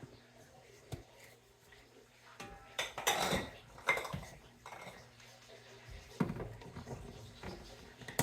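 Glass jars, some fitted with rubber gaskets, clink and knock against each other as they are handled. The bright clatter comes in bursts at close range, and a voice speaks quietly between the knocks.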